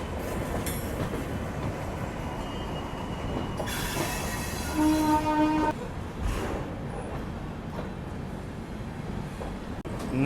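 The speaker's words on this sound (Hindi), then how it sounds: "7:55 पे डिपार्चर हो चुका है हमारी स्वर्ण जयंती राजधानी एक्सप्रेस का नई दिल्ली रेलवे स्टेशन से" The Swarna Jayanti Rajdhani Express pulls out of New Delhi station with a steady rumble of rolling carriages. Partway through, wheels squeal with a high metallic whine and a horn sounds briefly, close and loud.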